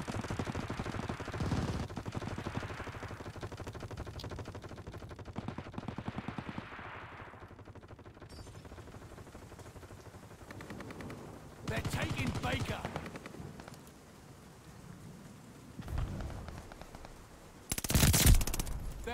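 Call of Duty: Vanguard multiplayer gunfire: rapid automatic bursts and single loud shots recurring over a steady background of battle noise, with a voice talking at times.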